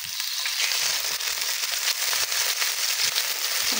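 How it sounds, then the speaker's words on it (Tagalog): Tomato dropped into hot cooking oil for sautéed sardines with cabbage, crackling and spitting in a close, steady, fairly loud sizzle with no talk over it. "Yan, nag-init na yung ating mantika. Add na natin yung ating tomato."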